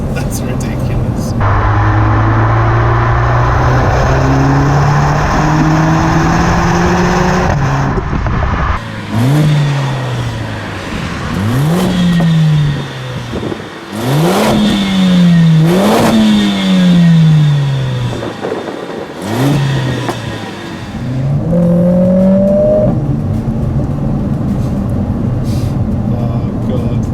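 A Mercedes-AMG A45 S with its 2-litre four-cylinder engine accelerates loudly through repeated rising revs and gear shifts, close by and continuous, with people talking over it.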